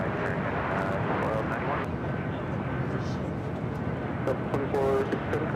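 Airliner arriving to land on runway 24 right, a loud continuous broadband engine roar filling the whole stretch, with talk over it.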